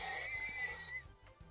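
Horse neighing in a Viking video game, a short close whinny with a shaky, descending pitch that fades within about a second, over a faint low rhythmic background.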